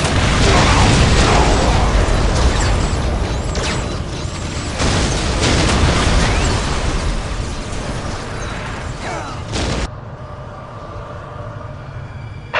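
Whirlwind artillery tank explosions in Warhammer 40K: Dawn of War, a dense, loud din of blasts and mechanical clatter with repeated bursts that drops to a quieter rumble near the end.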